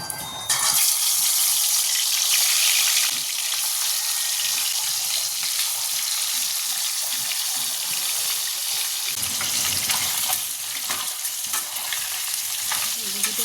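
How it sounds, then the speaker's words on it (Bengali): Steady, loud sizzling of fish frying in hot oil, a dense crackling hiss that continues throughout. "তেল গরম হয়ে গেছে, এবার আস্তে করে মাছগুলো সব ছেড়ে দেবো"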